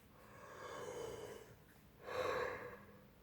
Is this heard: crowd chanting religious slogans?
no